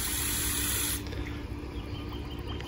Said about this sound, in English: So we're really going to soak this good.